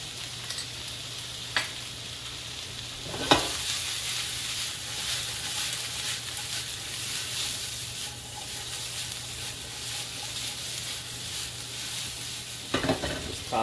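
Green onions and garlic stir-fry in a pan, a steady sizzle with occasional louder scrapes and tosses as the food is stirred, close by with no talking.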